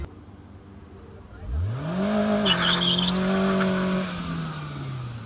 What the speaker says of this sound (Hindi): ऐसे ऐसे स्किड किया और स्टेयरिंग व्हील इधर उधर घुमा